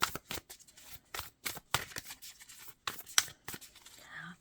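Brand-new tarot cards being shuffled in repeated short riffles, each a crisp fluttering burst separated by brief pauses, close and fairly quiet.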